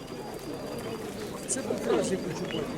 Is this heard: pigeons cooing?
yes